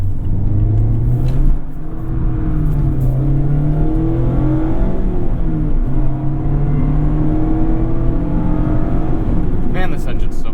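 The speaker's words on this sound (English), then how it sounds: "Man, this engine's so happy to rev." A 2020 Mazda Miata's engine revs hard under throttle while driving, rising and falling in pitch with sharp snaps as power is lifted, loud and steady throughout with a voice faintly under it.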